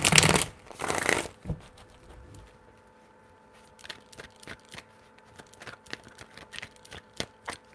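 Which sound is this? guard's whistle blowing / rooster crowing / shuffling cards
shuffling cards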